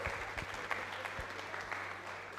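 Audience clapping for a professor at a care-focused conversation event, a modest, fairly steady patter of hands with a few sharper claps standing out over a low hum.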